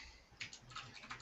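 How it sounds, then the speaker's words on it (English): Clicky computer keyboard tapped in a few light, sparse keystrokes, faint under a low background hum. "Can you hear my keyboard?"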